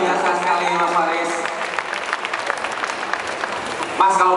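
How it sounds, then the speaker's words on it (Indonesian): Applause from a crowd at the Jember Fashion Carnaval, a moderate clapping that rises in the middle and fades, with voices talking over it at the start and end. "Berikan tepuk tangan."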